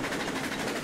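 A small locomotive in the Railroads Online train game runs fast, giving a brief, steady, dense rumble and chug that stays close and even throughout.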